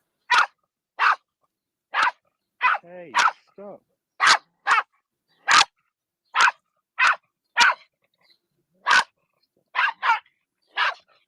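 A small dog barks about a dozen sharp, loud times at close range in an uneven rhythm, with a short whining yelp partway through, while a person briefly speaks over it.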